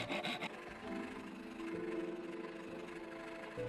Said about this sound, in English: we process the workpiece with a coarse wood rasp for a very long time